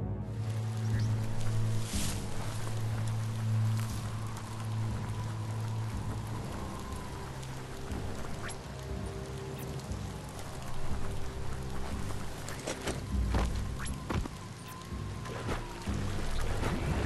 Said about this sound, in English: Hope you enjoy the rain.